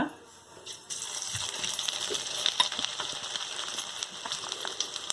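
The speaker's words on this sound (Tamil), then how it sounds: "நான் கடாய் வச்சு நல்லெண்ணெய் ஊற்றிருக்கேன். அதே கடாயை வச்சு தாளிப்புக்கு நான் கடுகு, வடகமும் சொல்லியிருக்கேன், போடுறேன்" Mustard seeds and vadagam hit hot sesame oil in a kadai for the tempering of a garlic kuzhambu, setting off a dense, steady crackle with scattered sharp pops after a brief quiet start.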